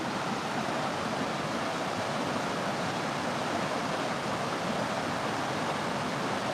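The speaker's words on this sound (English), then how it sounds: "But I absolutely love that waterfall." A waterfall seen on a countryside walk gives a steady, even roar of falling water that stays constant throughout, with no voices over it.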